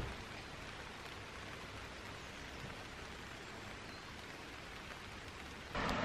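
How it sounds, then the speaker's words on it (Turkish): Steady outdoor rainfall, a dense, even hiss of drops close by that continues without a break, faint overall, with a brief louder swell at the very end and no talk. "Sizi biraz yağmur sesiyle baş başa bırakacağım."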